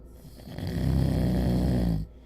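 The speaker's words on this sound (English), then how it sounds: "It's just a loop sound of a fat man fucking snoring." A man snoring in a looped recording: one long, deep, rattling inhaled snore lasting under two seconds, close and fairly loud, alone.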